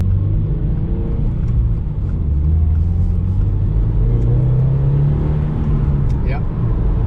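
A Toyota GR86 with a Yonaka catback muffler, its deep exhaust drone and low engine rumble while driving, steady and close, with a voice speaking over it.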